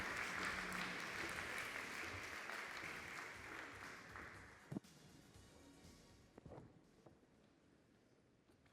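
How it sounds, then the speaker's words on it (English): An audience claps together for several seconds at a panel discussion on economic justice, the applause strong at first and then thinning to a few scattered claps, with no voices. "A warm round of applause, get them started."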